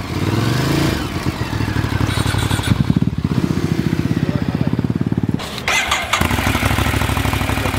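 Ducati Monster 821 motorcycle engine captured through a DSLR microphone, loud and close, with a rapid rhythmic idle thrum that briefly dips and then picks up again.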